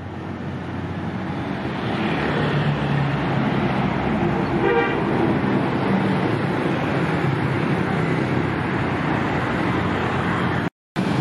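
An intercity bus with an aluminium body on the Klaten–Jakarta route pulls away, its engine rumbling loud and steady alongside roadside traffic, with a short horn toot partway through.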